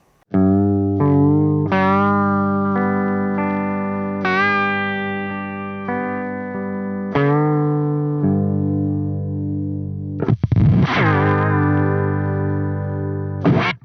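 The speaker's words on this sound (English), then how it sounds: "Lovely and warm, slightly modulated with a bit of vibrato there." Clean electric guitar notes and chords through a cassette tape vibrato pedal, with a warm, wavering vibrato, played alone and sustained, with a brief aggressive strum near the end.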